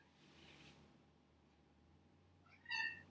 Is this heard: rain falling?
no